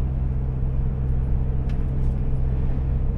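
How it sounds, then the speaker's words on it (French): The cooling unit motor on a refrigerated truck trailer runs as a steady, loud low hum and rumble. It drones on without a break. "Voilà, le moteur du frigo."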